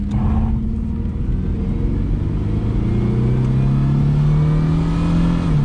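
A car engine revs loudly and steadily, its pitch climbing as it is shifted into drive, a close continuous roar with no talking.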